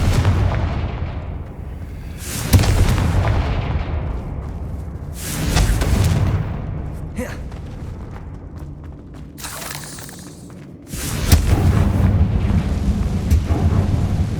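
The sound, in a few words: spell explosions in video game Hogwarts Legacy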